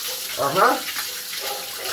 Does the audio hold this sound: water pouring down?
yes